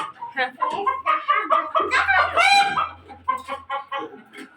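A pet chicken called Koko clucks in a series of short, rhythmic calls close by, mixed in with a child's playful chatter throughout.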